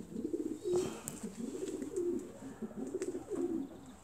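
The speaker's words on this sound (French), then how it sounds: "C'est des pigeons texans." Texan pigeons coo in a low, rolling rhythm in a garden, several soft repeated calls close by with faint background noise.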